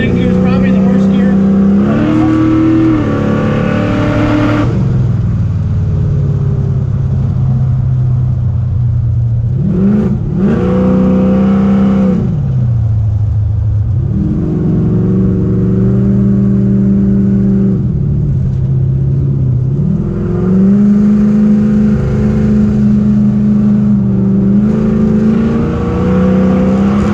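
A 1968 Ford Mustang Fastback accelerates through the gears, its engine climbing in pitch and then dropping back at each shift several times, heard from inside the car under ongoing conversation.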